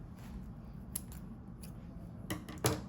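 Scissors snip crochet yarn on a pumpkin turtle project: a few faint, soft cuts, the clearest near the end, over a quiet room.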